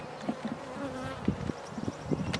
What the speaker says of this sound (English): I got 2 frames of bees.